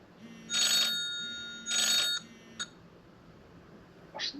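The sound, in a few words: telephone ringing (grandpa's phone)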